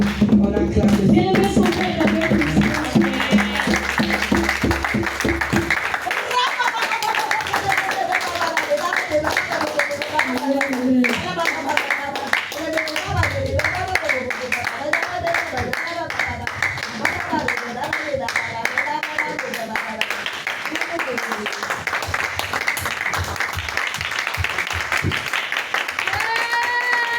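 A church congregation at a French-language worship service claps and applauds the Lord, steady rhythmic clapping running throughout while voices sing and speak over it.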